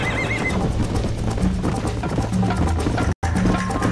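In Red Dead Redemption, a horse gallops with rapid, steady clip-clop hoofbeats during a race, and a warbling neigh rises near the start. The sound is loud and close, with a brief dropout near the end.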